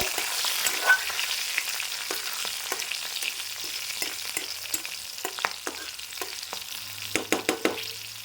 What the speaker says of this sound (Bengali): দিলাম একটু ফোড়নটা নাড়িয়ে চালিয়ে নেব